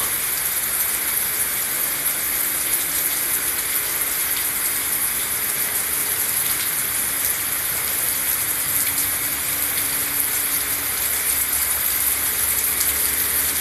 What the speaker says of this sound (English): the water has nowhere to go except down the sidewalk